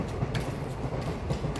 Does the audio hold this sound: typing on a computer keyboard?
no